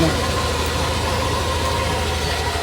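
A Yamaha Nmax V2 scooter engine idles close by, a steady, loud mechanical hum with a low throbbing pulse that holds evenly, with someone speaking over it.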